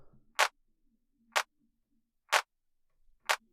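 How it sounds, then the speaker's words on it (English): Sharp electronic claps in a melodic techno track, four evenly spaced hits about a second apart, each short and bright, landing slightly off the grid over near silence. "we've got just a clap sitting just below, slightly off the grid"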